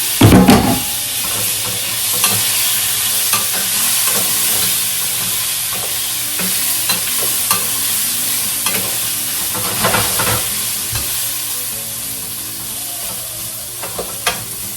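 Onion and tomato sizzle steadily in a hot pan for Mexican rice, with repeated scraping stirs of a utensil cutting through the constant frying hiss.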